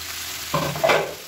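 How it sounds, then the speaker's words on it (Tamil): A brief burst of sizzling and scraping as food is stirred in a hot pan, with a spatula clatter midway. "நல்லா வதக்கி விட்டுக்கலாம்."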